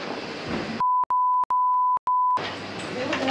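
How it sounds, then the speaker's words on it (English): Censor bleeps added in editing: a steady pure electronic tone sounding in four or five short bursts separated by brief gaps, loud and alone, cutting out the background noise before and after. "I'm gonna put a lot of beeps on that one."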